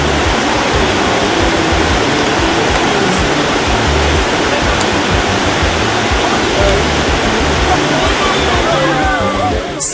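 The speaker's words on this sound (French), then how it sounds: "Nous sommes encore plus proches des cascades avec une vue plus rapprochée." Nkomkam falls roars as a loud, steady, unbroken rush of falling water, heard up close from the base of the cascade, with no pause in the sound.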